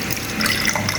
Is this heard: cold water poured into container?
yes